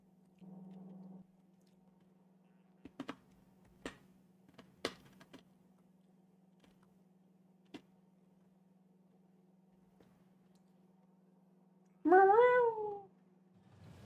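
A cat lets out one clear, fairly loud meow near the end, after a quiet stretch with a steady low hum and scattered small clicks and taps.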